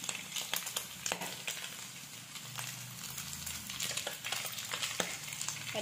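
Onions frying in oil in a pan for a spicy chicken fry, stirred with a utensil: a steady close sizzle with scraping and clinking strokes of the spoon against the pan, no talking.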